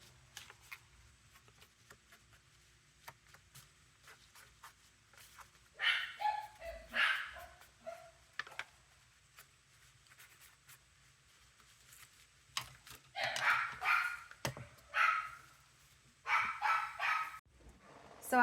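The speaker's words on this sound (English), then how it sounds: "But they'd rather stay in the living room and bark at the door." Several dogs bark at the door of a living room in bursts, loud and fairly close, with quiet gaps between the barking spells over a low background hum.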